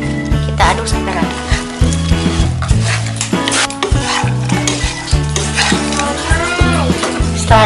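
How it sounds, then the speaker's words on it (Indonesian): Tempeh in sweet soy sauce stirred in a pan, with scraping and a soft sizzle running steadily throughout, loud and close, beneath continuous background music. "Kita aduk sampai rata."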